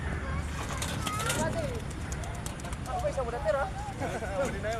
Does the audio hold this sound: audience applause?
no